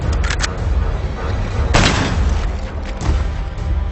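Gunfire and explosions from Call of Duty: Black Ops multiplayer, dense booming shots and blasts in close succession with one sharp loud burst in the middle, over a constant low rumble.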